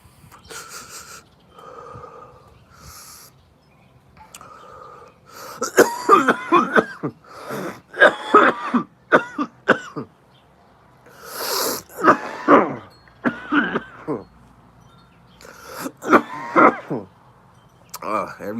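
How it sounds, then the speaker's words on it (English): Repeated harsh coughing fits, close and loud, with wheezy breaths and brief throat sounds between bursts. "it just makes me cough up a lung like every time"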